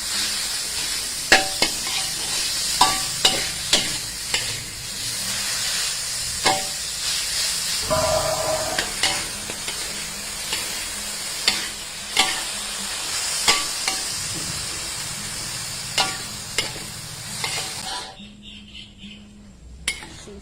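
Pork and eggplant stir-cook in a hot pan with a constant sizzling hiss, punctuated by regular sharp clanks of a utensil against the pan, close and loud, fading near the end.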